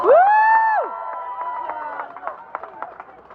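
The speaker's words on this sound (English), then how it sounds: "So put your hands together for Jeff King. Big round of applause." At an outdoor freedom rally, a crowd greets a speaker with a loud opening whoop, then scattered claps and cheers that thin out toward the end.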